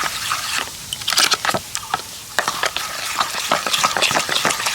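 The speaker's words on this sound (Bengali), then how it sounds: "এবার এই ইনোটাকে আমি খুব সুন্দর করে মিশিয়ে নেব" Eno fruit salt mixed with a little water is stirred briskly in a small bowl, giving a rapid, irregular series of close scraping clicks and fizzy crackles that continue throughout without speech.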